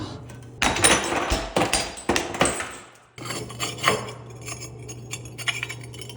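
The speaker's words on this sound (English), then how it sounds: "Smashing stuff." Broken porcelain from an undermount bathroom sink being smashed, with loud, close cracking and clinking impacts in quick bursts, a brief pause, then a steadier run of smaller knocks and chinks.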